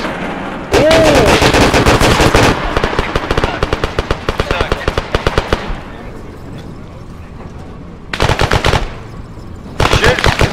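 Automatic gunfire in a first-person shooter video game, long rapid bursts of loud close shots broken by short pauses, with players talking over the firing.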